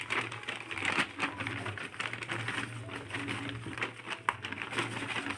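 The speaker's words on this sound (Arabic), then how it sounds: "هبدا ان انا افضي الكيس ده كله" Laundry detergent powder emptied from a bag into a plastic bowl, a steady granular patter and crinkling rustle throughout at close range, with no talk.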